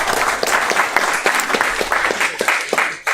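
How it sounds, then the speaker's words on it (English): A meetup crowd at an AWS tech gathering gives a short burst of steady, fairly loud clapping, close and continuous for a few seconds without talk. "So round of applause for them."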